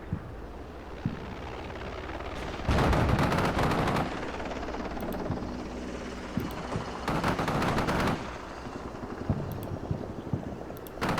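Gunfire in the military strategy game Combat Mission: Shock Force 2, with loud bursts of automatic fire over a steady rumbling battlefield background, the heaviest volleys rising in two long stretches and sporadic single shots between them.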